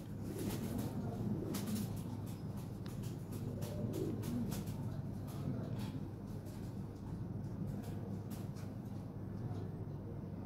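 European Lahore pigeons cooing softly at a seller's loft, low repeated coos under a steady background hum, with scattered sharp clicks and flutters throughout.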